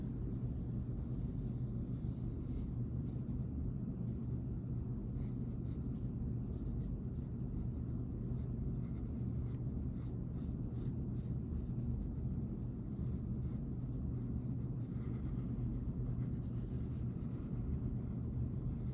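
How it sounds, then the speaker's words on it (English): A pen drawing a letter G on paper, a faint scratchy stroke sound buried under a steady low rumble of background noise throughout. "So I'm going to try to draw my same G here, but now set at a bit of an angle."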